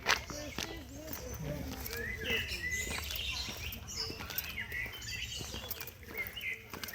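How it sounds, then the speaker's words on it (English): Bright bird chirps and tweets scattered over outdoor ambience in Ravne Park, with people talking nearby and footsteps passing. "listen to the birds"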